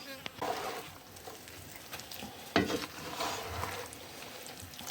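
Soft sizzling from a pot as an eggplant mixture is stirred, with a few scraping clacks of a utensil against the sides.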